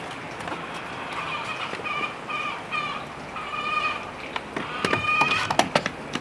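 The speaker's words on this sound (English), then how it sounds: "Chickens are being loud." Chickens cluck and squawk in a backyard near a DIY greenhouse build, a loud scattered chorus of repeated calls with sharp clattering knocks and handling noises mixed in toward the end.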